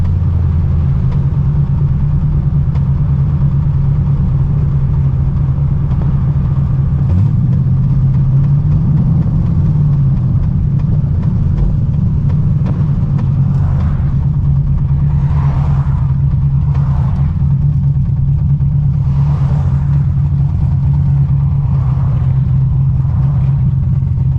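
A low-mileage Corvette C6 Z06 engine running steadily with a continuous low rumble and a faint irregular ticking knock underneath, heard alone without talk.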